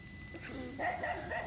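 A dog barks a few times at moderate distance near a beach in the Philippines at five in the morning. The barks are faint and mixed with yips and whimpers over low background noise, with no talking.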